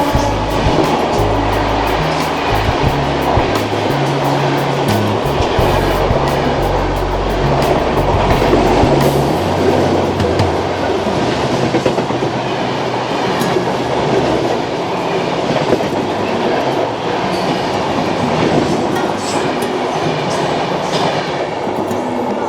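Howrah–Kathgodam Bagh Express train pulling out of a station, with steady loud rumble and rhythmic clickety-clack of wheels on rails continuing throughout, no voices.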